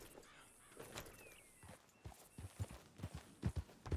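Horse hooves clip-clop in Red Dead Redemption 2, faint and scattered at first, then growing into a steady walking rhythm of crisp strikes, with quiet ambient background and no voices.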